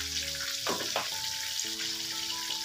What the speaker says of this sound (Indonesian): lalu kita goreng terong ungunya